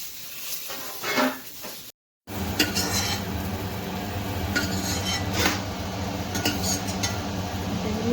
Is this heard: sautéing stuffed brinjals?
yes